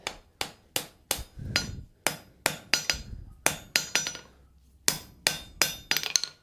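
A hot steel block being upset on an anvil to set a forge weld: sharp, ringing hammer blows land close and loud in uneven bursts of two or three, with a brief pause midway and no talk.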